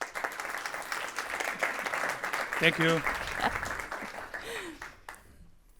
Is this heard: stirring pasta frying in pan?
no